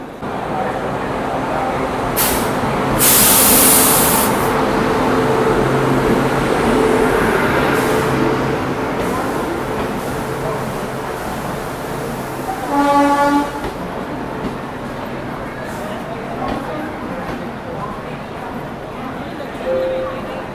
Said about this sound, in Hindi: अपनी प्रयागराज हमसफर एक्सप्रेस अभी प्लेटफॉर्म नंबर 9 पर लगाई जा रही है नई दिल्ली रेलवे स्टेशन के